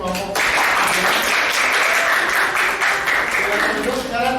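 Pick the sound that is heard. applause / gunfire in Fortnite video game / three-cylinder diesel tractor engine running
applause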